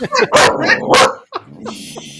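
A dog barks several times in quick, loud bursts close by, followed by softer yips and whimpers, while people chat nearby on a theme park ride queue.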